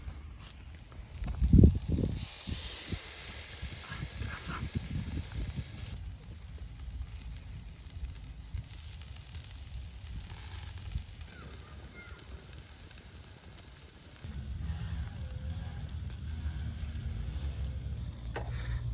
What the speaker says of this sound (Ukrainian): Тепер можна вже викладати на гріль, щоб обсмажувалося.